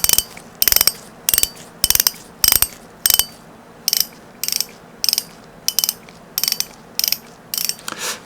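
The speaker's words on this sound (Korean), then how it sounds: "드랙 소리입니다." Steady series of quick ratcheting click bursts from the drag of a Shimano Stellar 2500 spinning reel, repeating roughly twice a second for several seconds, sharp and up close.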